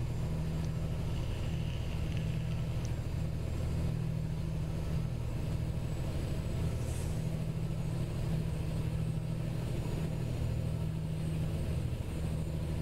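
A Mack Anthem truck engine with a C15 motor, pulling piggyback doubles in American Truck Simulator, drones steadily at a low, even hum for a long stretch, with faint road noise and no voices.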